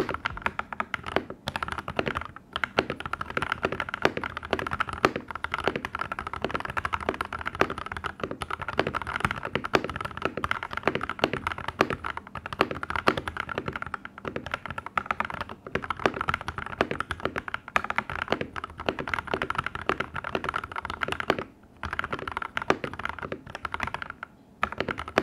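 Fast, continuous typing on a mechanical keyboard fitted with cherry profile keycaps, dense clacking keystrokes close to the mic with a few brief pauses over about twenty-five seconds.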